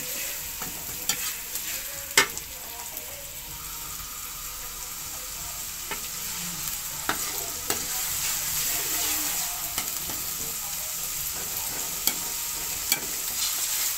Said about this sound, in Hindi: इसको इतना भूनेंगे कि इसका जो कच्चापन है वो ख़त्म हो जाए।